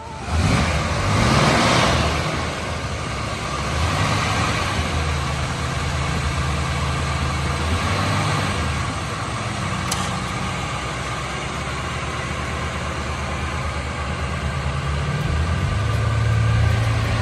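A 1973 Cutlass Supreme with a 350 Rocket V8 and new exhaust idles steadily and loudly up close, a deep continuous low rumble with slight variations in pitch.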